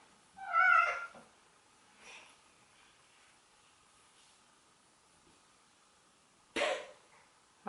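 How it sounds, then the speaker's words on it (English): A cat pants nearby in a few short, breathy huffs separated by quiet pauses, with no one talking. "My cat is panting in the background."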